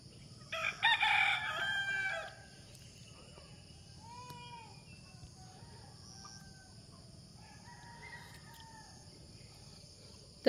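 A rooster crows loudly once near the start, then soft scattered clucks and chirps from hens fed yellow cracked corn follow over a steady insect hum.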